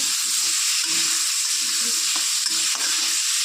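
Long-cut potato strips frying in a pan for a Bengali bata fish curry give a steady close sizzle with soft stirring scrapes running throughout, no voices.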